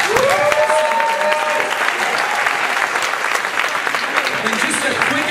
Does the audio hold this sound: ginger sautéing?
no